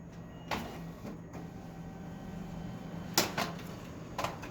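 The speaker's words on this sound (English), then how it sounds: "back at the printer, waiting for it to spit out the second side of the 80-pound cardstock cover" An office printer runs a second-side pass on an 80-pound cardstock booklet cover, with a low mechanical hum broken by a few sharp clunks and feed noises.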